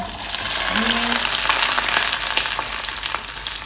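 Sliced onion sizzling as it hits hot palm oil for a Nigerian egg stew sauce, a steady, loud, close frying hiss that continues without a break.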